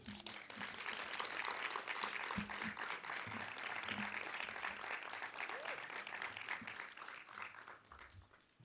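A seated audience applauds steadily after a literary reading, a dense, sustained wash of clapping at moderate distance that holds for several seconds with faint murmuring underneath.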